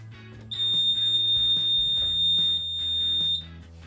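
A Siemens Sinteso fire alarm panel buzzer sounds a high, steady electronic tone continuously for about three seconds during a lamp test, over a low background hum, close and clear.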